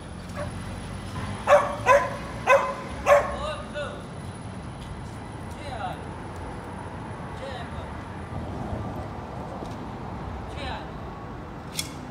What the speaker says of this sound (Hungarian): Szegény kutya közben izgul a gazdiért, aki valószínű bement a boltba, és ide kikötötte.